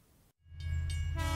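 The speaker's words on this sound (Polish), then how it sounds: "Pociąg szybko mknie po torach i nie staje przy zaporach." A train speeds along the tracks in a rail safety campaign film, its horn blaring in long steady tones over a loud, rumbling roar that swells up after a brief moment of silence.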